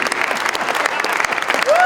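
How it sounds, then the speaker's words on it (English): A crowd applauses at a charity auction, with steady, busy clapping throughout while an auctioneer's voice talks over it. "It's okay to clap, folks."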